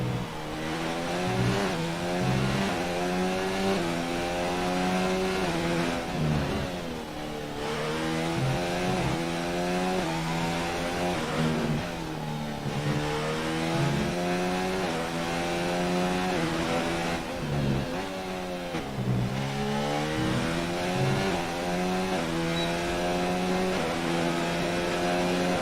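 Race car engine on an onboard fast lap in a racing video game, a loud, continuous high-revving whine climbing and dropping with repeated upshifts and brief lifts, close and steady throughout.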